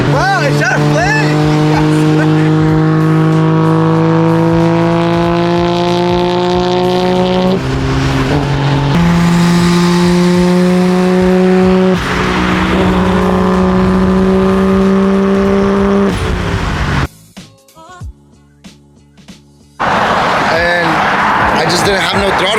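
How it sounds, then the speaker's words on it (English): Toyota Supra engine revving hard, a loud, close, rising and falling tonal roar held through several gear changes, with a brief drop-off near the end before it picks up again; a voice talks over it. "It sounds like a Supra, like it's crazy. It is a Supra, but you guys get what I'm saying. It sounds so good."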